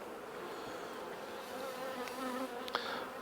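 A honeybee swarm bursting out of a nuc box hums in a steady, dense buzz that holds at moderate loudness throughout, with a few nearer bees droning past, a brief louder flicker, and no voices.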